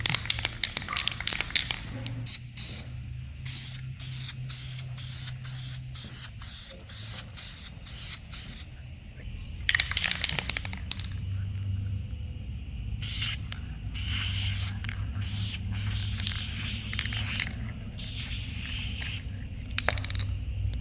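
Repeated hissing bursts of an aerosol spray can painting a 460 big-block engine block, some short and some sustained, with a low steady hum in the background and no talking.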